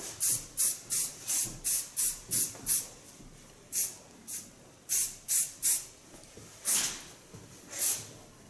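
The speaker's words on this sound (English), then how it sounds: "Finish the hairstyle. I use the hairspray. This is of Lanza." Lanza hairspray misted over a finished hairstyle in quick bursts, about eight rapid hisses in a row, then a few slower spaced sprays, close and clear with no talk.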